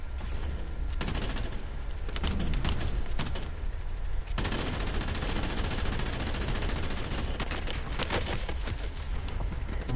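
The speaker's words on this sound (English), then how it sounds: "It has to be a headshot with the light machine gun" Bursts of light machine gun fire in a video game crackle loud and close, the sustained rattling broken by brief pauses across the stretch.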